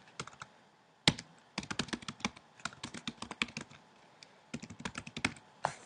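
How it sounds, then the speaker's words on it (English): Typing on a computer keyboard, close and fairly quiet, in quick irregular bursts of clicking keystrokes with short pauses between runs, a sharper isolated key press near the start. "So let me type that in."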